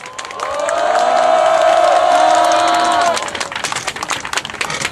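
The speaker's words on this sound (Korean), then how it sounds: "여러분 뜨거운 환영 격려의 박수 부탁드립니다." A seated crowd at a gathering after a court verdict applauds to welcome lawyer Kim Chil-jun, loud sustained clapping that swells and then breaks into scattered claps as it fades.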